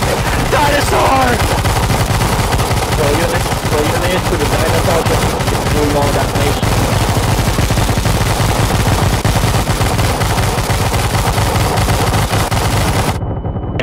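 Heavy gunfire in CS GO zombie escape as players shoot at a dinosaur, rapid continuous automatic bursts filling the scene, loud and close, with shouting voices mixed in before it cuts off abruptly.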